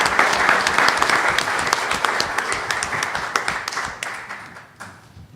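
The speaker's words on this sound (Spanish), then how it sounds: "Un aplauso, por favor, para don Jorge Salazar Salazar" Audience applause for an honoree at a molecular genealogy conference, steady dense clapping from a crowd that thins and tapers off toward the end.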